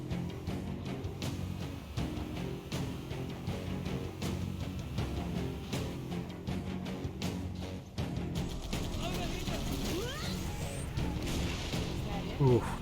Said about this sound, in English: I will hop out, use the Spartan laser, and hopefully bring it down in one shot